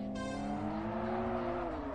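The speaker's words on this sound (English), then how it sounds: "Car's very loud." A race car engine in a racing video game revs loud and high, its pitch climbing and then sliding as the car speeds along, with no talking.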